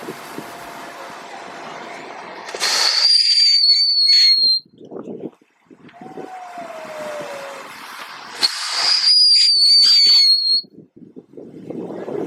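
A small firework-powered toy car with a Moyu Rubik's cube strapped on top, sitting on plywood, fires twice, each a loud hissing whistle with a high shrieking tone that lasts a couple of seconds, with quieter rustling between bursts.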